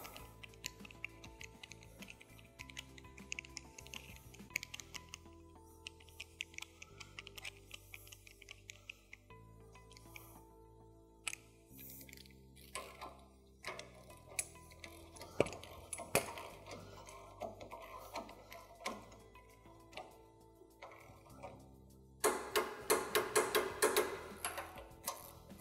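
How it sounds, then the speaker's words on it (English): A torque wrench tightens the shear bar arm bolts on a Jaguar 800, giving faint, scattered metallic ticks and clicks close by, with a denser flurry of clicking near the end. "we will now torque our shear bar arm bolts up to the required spec"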